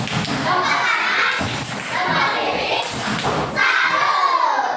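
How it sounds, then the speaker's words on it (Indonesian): Rhythmic 'tepuk salut' clapping from children in a classroom, dull thudding group claps in repeated bursts, fairly loud and close, with kids' voices mixed in. "Kita beri tepuk salut"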